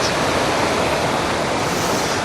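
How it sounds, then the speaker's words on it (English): Water rumbles along the bottom of a valley, a steady, loud, close wash of rushing noise that stays even and continuous throughout. "I've just heard the water rumbling as I come down to the bottom of that valley"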